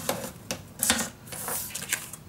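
Quick slicing swipes of a We R Memory Keepers premium paper cutter trimming paper, several short crisp cuts and clicks close up, spaced irregularly with no talking.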